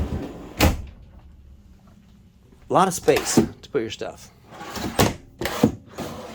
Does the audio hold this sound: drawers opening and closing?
yes